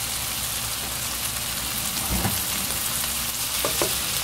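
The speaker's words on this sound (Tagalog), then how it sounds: "Igigisa nyo lang lahat." Tofu sautéing in a pan with mayonnaise and black pepper gives a steady, dense sizzle and crackle throughout, with a couple of brief stirring clatters near the middle and end.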